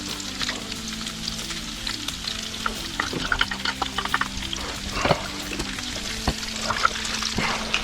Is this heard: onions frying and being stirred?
yes